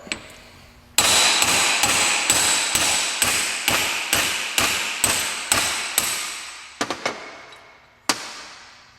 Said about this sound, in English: you just take a hammer and knock it out